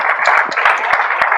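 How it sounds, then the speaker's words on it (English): A studio audience claps for Kyle in a short burst of steady, close applause with a few sharper individual claps standing out. "Everybody, give Kyle a round of applause."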